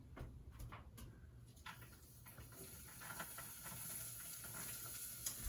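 Shallots sizzle in melted coconut oil in a pot, a soft steady hiss with faint crackles and pops running throughout at low volume, no talking.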